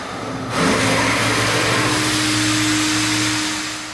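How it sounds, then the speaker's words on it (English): A powerful electric hand dryer in a campground restroom switches on and roars steadily with a constant whine, loud and close in an echoing room. "This is their hand dryer."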